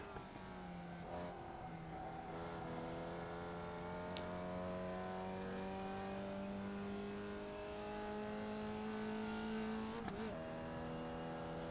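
A Formula Vee race car in iRacing drones along steadily, its engine note held at near-constant pitch with slight rises and dips as it shifts and accelerates, close and alone.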